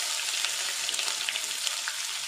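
Crushed ginger and garlic sautéing in hot oil for a spicy potato fry, giving a steady, close, even sizzle with soft stirring crackle and no voices.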